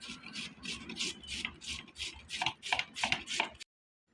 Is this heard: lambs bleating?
no